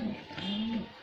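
A white Humer pigeon gives a short, soft low coo, close by, with faint background noise.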